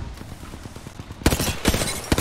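Rapid bursts of automatic gunfire from an Apex Legends firefight, with quick rhythmic shots that grow louder and heavier halfway through as a closer weapon opens up in sharp, punchy volleys.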